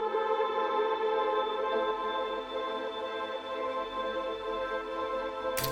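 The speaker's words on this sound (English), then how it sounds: "just some different swells and a granular piano" Layered atmospheric synth swells with a granular piano pad from a deep house production sustain as a steady, dense wash of tones, holding at even loudness and ending on a brief bright burst.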